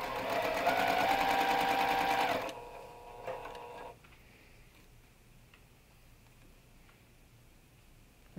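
A sewing machine runs fast and close for a couple of seconds while stitching pieced fabric up to a pin, then stops, leaving a few faint ticks and clicks in a quiet room.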